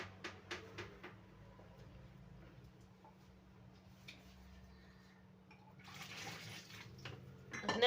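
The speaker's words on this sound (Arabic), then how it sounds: "نجيو نبلوها بالماء دافي هنا" Warm water is poured over a simple economical dough for stuffed pastries, a soft splashing trickle rising toward the end after a few light knocks, close and fairly quiet with low background hum.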